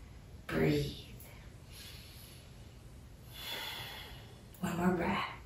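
Three distinct, close breaths during a yoga neck stretch for stiffness, each a sharp nasal inhale or exhale separated by quiet pauses.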